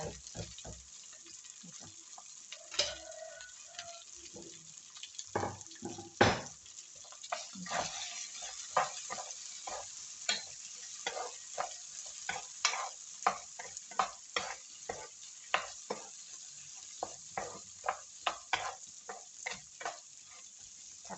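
Rice is stir-fried with paprika in a pan for risotto, giving a soft continuous sizzle broken by frequent rhythmic scrapes and taps of the spatula, close and fairly quiet.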